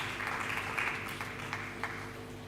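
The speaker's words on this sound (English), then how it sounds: "Another round of applause, even as we get to it." Faint, distant audience applause at an International Missing Children's Day event as guests come to the podium, a steady wash of clapping heard from afar with a low hum underneath.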